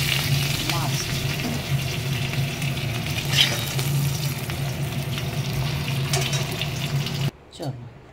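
Spices and curry leaves sizzling in hot oil as a tempering for sambhar, a loud steady frying hiss with occasional crackles that cuts off abruptly near the end, a faint voice underneath.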